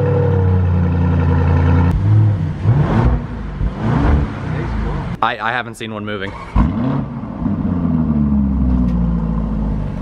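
2019 Lamborghini Urus engine rumbling and revving up close in a loud, uneven burst, with excited voices talking over and between the revs.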